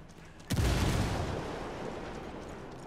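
A frag grenade explodes in the video game Ghost Recon Wildlands: a single sharp, deep boom after a quiet moment, followed by a long rumbling tail that slowly fades.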